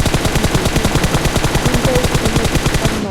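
Rapid automatic gunfire from a battle royale video game, a steady fast burst of shots running continuously and loud for about three seconds, alone with no talk.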